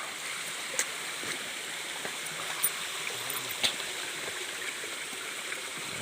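A creek crossing with a waterfall just below gives a steady, broad rush of flowing water that stays even and continuous, with a few faint splashes and clicks scattered on top and no talk.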